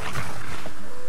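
A short, deep wolf growl in the video game Valheim rumbles out, loud and close, fading after about a second with no voices.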